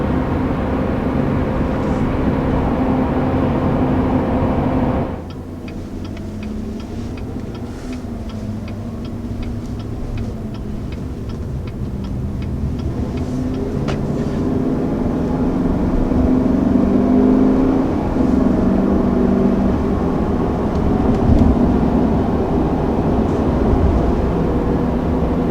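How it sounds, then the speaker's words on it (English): Chevy Silverado Trail Boss 2020 pickup on off-road tires, heard from inside while driving: a steady road and tire roar with a low drone that dips briefly and then swells again, with no talk. "I'm thinking that there's a little bit more tire noise on this just for having the off-road worthy tires"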